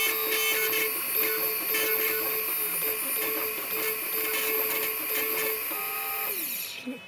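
An engraving machine works on a pendant or pocket watch, giving a steady mechanical whir with a regularly repeating tone, then winding down at the very end.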